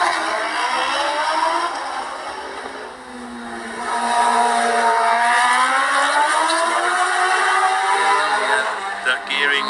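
A race car or bike on the Macau Grand Prix street circuit climbing steep San Francisco Hill, its engine note rising and falling through gear changes, loud and continuous with a brief dip near three seconds; a commentator talks over it.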